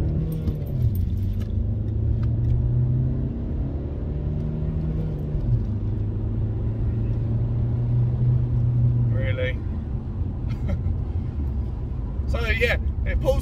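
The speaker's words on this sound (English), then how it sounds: "Let's get some acceleration on the go." A diesel SEAT Leon accelerates along a dual carriageway, its low engine drone climbing steadily and then dropping back with each gear change, under the cabin's road rumble, with a brief voice near the end.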